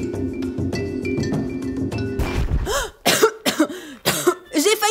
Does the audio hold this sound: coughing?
yes